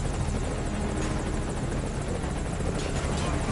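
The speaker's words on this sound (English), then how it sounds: "What's the chopper doing?" Helicopter in a video game roars loud and close with steady rotor chop and dense engine noise, unbroken for the whole stretch.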